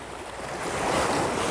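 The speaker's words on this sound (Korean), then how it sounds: "파도 치지 마" Sea waves surging onto a shore during shore lure fishing for flounder, a close, steady rushing wash that swells and grows louder over a second and a half.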